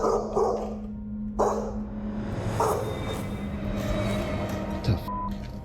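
A dog barks in a few sharp, separate bursts inside a house, set against a steady low hum and faint background noise.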